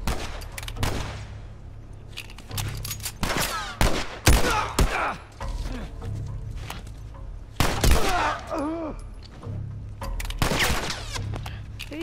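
Bursts of gunfire in The Last of Us video game, with sharp repeated shots and rapid volleys scattered across the stretch, some loud and close, with faint voices mixed in.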